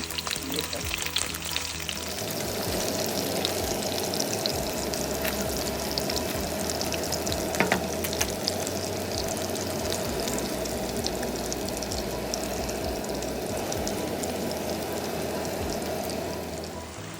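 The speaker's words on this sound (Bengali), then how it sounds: "এখানে ওই যে চিতল মাছ ভাজি করছিলাম" Chitol fish frying in a pan for a do-pyaza dish, a continuous crackling sizzle of hot oil that runs steadily and close after a brief quieter opening.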